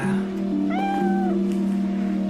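A single drawn-out meow rises and falls over a steady low hum, close and fairly clear, lasting under a second.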